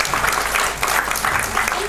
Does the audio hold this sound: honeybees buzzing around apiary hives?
no